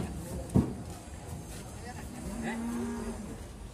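A large jumbo cow, one of a pair weighing over 700 kg, lets out a single drawn-out moo, preceded by a sharp thump, with faint voices and outdoor murmur behind.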